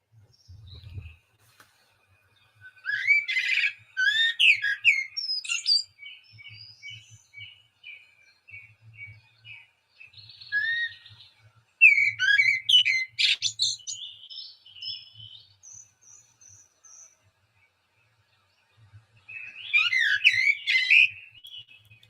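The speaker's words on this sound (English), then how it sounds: "And it's as if the blackbird is singing to you personally." A blackbird sings its night song in bursts of fluttering, whistled phrases separated by pauses of silence. The song is clear and fairly close, with faint low rumbles underneath and no voices.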